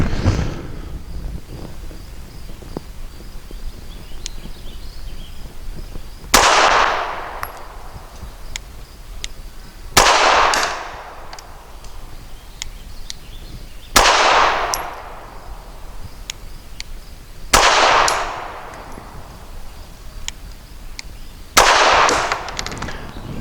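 Five evenly spaced shots from a S&W Performance Center Shield EZ .380 pistol at a range, each a sharp crack with a brief ringing tail, roughly four seconds apart over steady background noise.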